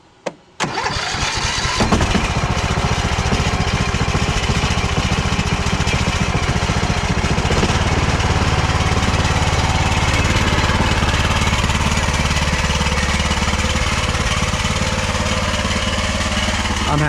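Tractor engine starting with a sharp burst, then running loud and steady at a rough idle, close by and with no talking over it.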